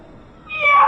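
Indoors, a cat gives one clear, fairly loud meow that swells and rises over the second half, close to the microphone, with no talking.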